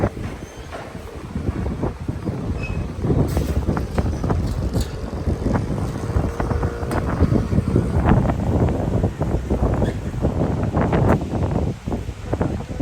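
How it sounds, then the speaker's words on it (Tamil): Gusty wind at an outdoor kite festival buffets the microphone in a constant rough rumble. Scattered light clatters and knocks are heard throughout, and no one speaks. "இன்றைய பொழுதில் காற்று நல்லா இருக்குது"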